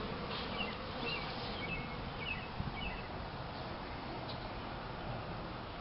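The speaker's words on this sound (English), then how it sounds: "I got bees flying in my mouth" Bees flying around a backyard swarm capture, a faint, continuous buzzing hum with scattered higher buzzes of individual bees passing close, heard outdoors.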